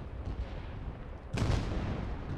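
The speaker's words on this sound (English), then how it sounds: "Charlie has some mortars out there." Mortar fire from the video game ARMA 3 S.O.G. Prairie Fire is heard as a single heavy, booming impact that breaks through a constant rumbling background, loud and fairly close.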